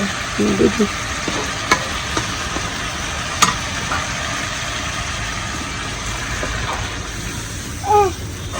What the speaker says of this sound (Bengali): এখানে মাছ ভোনা করতেছি আর এখানে বেগুন দিয়ে আর মাছ দিয়ে আলু দিচ্ছি